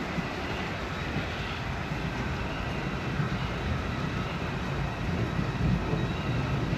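An Iron Ore Line passenger train bound for the Arctic Circle rolls along with a steady, broadband rumble and continuous low running noise heard from inside, constant in level throughout.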